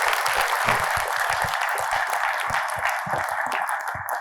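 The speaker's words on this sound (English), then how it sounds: "So a big round of applause to all members of SHRP" Audience applause at an award ceremony, a steady dense wash of clapping from a large crowd that holds evenly at full strength for the whole stretch with no voices over it.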